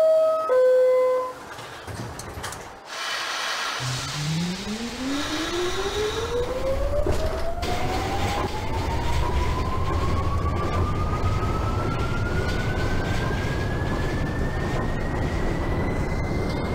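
An F subway train in the OpenBVE train simulator game accelerates from a stop, its motor whine rising steadily in pitch over a loud, continuous rumble of wheels and carriage, after a brief door chime at the start.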